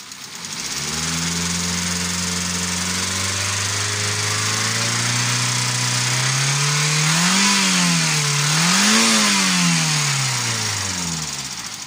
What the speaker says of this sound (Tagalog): Bagong gawa to at hindi niya gusto yung tunog ng andar ng makina.